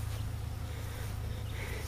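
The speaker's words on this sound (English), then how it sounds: "It looks like it's building up another colony of bees over here." Bees buzz around a trap box where a new colony is building up, a continuous close low hum with a steady, even drone.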